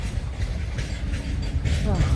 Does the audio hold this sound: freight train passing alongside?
yes